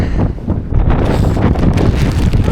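Strong wind buffets the microphone in a continuous loud rumbling roar, gusting unevenly for the whole stretch, outdoors in Australia.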